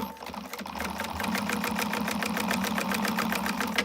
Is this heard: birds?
no